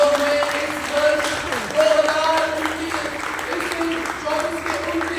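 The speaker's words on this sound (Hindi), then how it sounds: "हम जोरदार ताली बजा के पवित्र आत्मा का स्वागत करें अपने मध्य में" A church congregation claps loudly together during a Sunday service, a dense continuous wash of applause mixed with voices and music.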